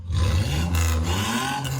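A loud, close jeep engine revs through an open silencer with a deep, raw roar, rising and falling in pitch in a throaty growl.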